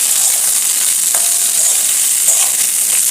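Ridge gourd frying and being stirred in a pan for a Birbhum-style jhinge alu posto, a steady close sizzle with faint scraping stir strokes, no voices.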